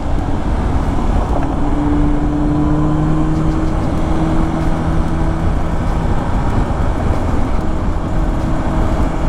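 A BMW sports touring motorcycle cruises at speed with a loud, continuous engine roar. Wind and road noise are heavy, and a few faint tones drift slightly in pitch as the bike holds a steady pace.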